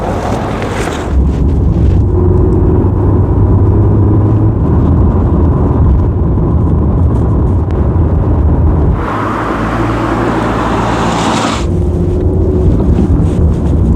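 A Rover 75 1.8 turbo car drives along with a loud continuous engine and road roar mixed with wind buffeting, the tone briefly shifting near the middle before settling back to a steady cruise.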